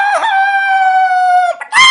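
A rooster crows loud and close in one long, drawn-out call, with a short clucking burst near the start and another crowing squawk at the end.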